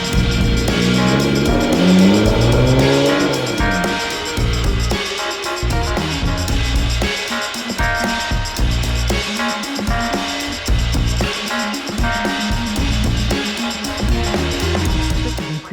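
A rare Lotus Exige Cup 430 Final Edition sports car pulls away, heard from inside its confined cabin. The engine note rises in pitch at first, then settles into a loud, rough, pulsing roar.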